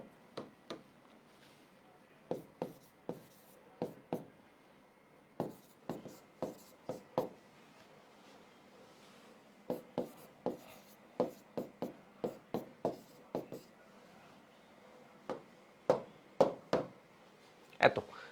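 A chemical equation is written out by hand, with bursts of short, close scratching pen or chalk strokes separated by pauses, all fairly quiet against a faint hum.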